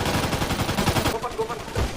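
Gunfire in GTA V roleplay comes as rapid, loud automatic bursts of shots in quick rhythm, close and dense, with a player's voice shouting over the shooting.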